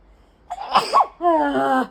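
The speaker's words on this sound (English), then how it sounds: "I'm gonna sneeze." A single sneeze, a sharp intake then a loud burst, followed by a drawn-out voiced exhale, close and clear against near silence.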